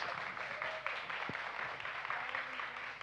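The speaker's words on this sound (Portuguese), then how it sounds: "Mais aplausos." Applause from a seated audience at a panel discussion, a continuous patter of hands at moderate level with a faint low murmur beneath.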